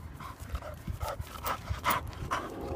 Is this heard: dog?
yes